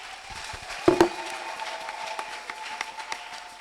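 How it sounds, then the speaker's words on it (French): Church congregation applauding during a French-language service, a moderate wash of clapping with a couple of sharper nearby claps standing out, steady and mid-distance. "Applaudissons très fort pour le Seigneur."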